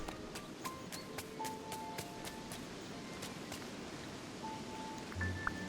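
Rain falls steadily in the video game Disney Dreamlight Valley, a soft continuous patter with scattered light taps and a few faint chime-like pings.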